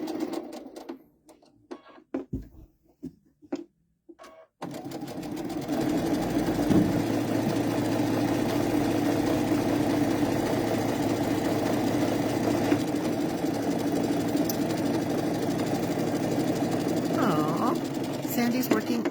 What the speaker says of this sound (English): I think this machine is Paula's and my favorite one